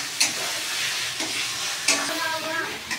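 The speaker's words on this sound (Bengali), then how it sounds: "এই টমেটোটা দিয়ে এবার আমাকে একটুখানি ভাজা ভাজা করতে হবে" Tomato sizzles in a hot pan with garlic and ginger while a utensil stirs it, giving a steady frying crackle broken by a few sharp scraping strokes.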